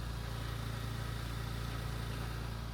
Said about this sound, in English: it has what I feel like is a little bit of an excessive belt whine